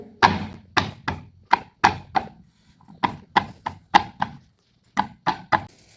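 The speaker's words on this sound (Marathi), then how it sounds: "आणि लसूण आपण मोठं मोठं ठेचून घेऊया। मोठं मोठं ठेचून घ्यायचं आपल्याला।" Garlic cloves coarsely crushed by hand, about fifteen sharp pounding thuds close by in an uneven rhythm with short pauses between groups, and no talking.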